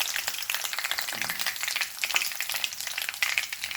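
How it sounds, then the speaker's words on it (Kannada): Mustard seeds and garlic frying in hot oil, a dense, crackling sizzle full of rapid little pops, steady and fairly close, with no voices. "ಸಾಸಿವೆ ಸಿಗುತ್ತಾ ಇದೆ."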